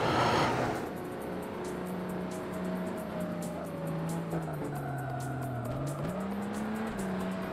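Lamborghini race car engine droning and rising in pitch as it accelerates along a track in a racing video game, with a brief burst at the start and faint clicks above, no talk.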